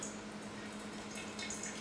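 Water drains out the bottom of a pink and white princess philodendron pot after watering, a steady trickle with light drips and splashes, fairly close and quiet.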